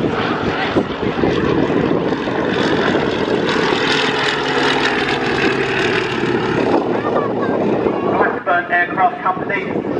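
Fairey Swordfish biplane flying in an air display at RAF Valley Families Day, its propeller engine droning loud and steady for the whole stretch with wind noise, a commentator talking over it.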